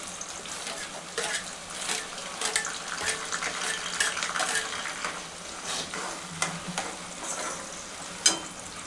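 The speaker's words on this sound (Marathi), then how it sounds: "मम्मी आता गरम तेलमध्ये ओला कांदा टाकून राहिली आहे." Chopped green onion sizzling in hot oil for a home-style vegetable dish, a continuous close hiss with scattered crackles and occasional knocks of stirring, no talking.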